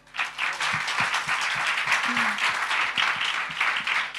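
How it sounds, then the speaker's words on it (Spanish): A church congregation applauds first-time visitors in steady, dense clapping that runs throughout, with a faint voice briefly surfacing midway. "le damos un gran aplauso."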